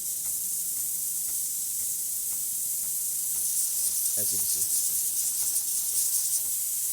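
A Breville Barista Express steam wand hisses steadily at close range, a continuous bright jet of steam running the whole time, while someone speaks briefly over it.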